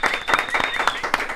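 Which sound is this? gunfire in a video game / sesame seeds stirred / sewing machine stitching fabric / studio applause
studio applause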